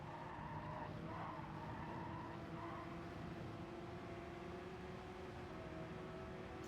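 In Gran Turismo 7, a race car power slides out of a corner under hard throttle, a continuous engine roar mixed with steady tire squeal, loud and unbroken throughout with no talk.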